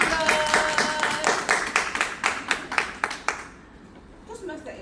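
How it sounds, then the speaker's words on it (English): Small Toastmasters club audience clapping for Toastmaster Eddie: a few seconds of close, rhythmic hand claps that thin out and stop, followed by a quiet room with faint movement. "Let's give him a round of applause."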